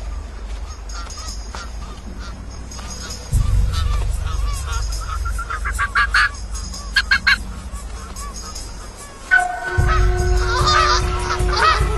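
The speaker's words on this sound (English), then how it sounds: "Canada geese make themselves big and threatening." Canada geese honk in bursts of short calls over a steady low rumble, with louder wind or movement noise coming and going.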